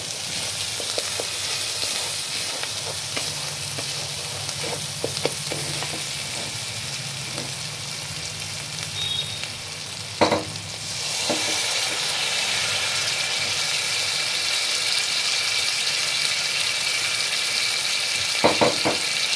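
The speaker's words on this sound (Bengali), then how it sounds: "মশলাটা আমার প্রায় কষা হয়ে গেছে, তেল ছেড়ে দিয়েছে" Masala paste for a Bengali mustard prawn curry sizzles steadily in hot oil in a pan. The frying runs continuously with occasional stirring scrapes and clicks, and no talking is heard.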